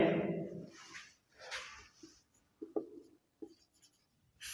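Pen or marker writing out a maths solution, several short scratchy strokes separated by pauses, close and fairly quiet.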